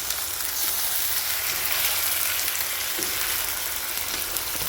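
Chicken fries in a pan with a constant, close crackling sizzle and no voices.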